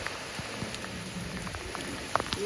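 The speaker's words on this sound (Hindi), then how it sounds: "भाई जम के बारिश हो रही है, खूब बारिश हो रही है, मस्त बारिश।" Heavy rain pours steadily on a kitchen garden planted with chilli plants, a dense even hiss with scattered louder drops landing close by.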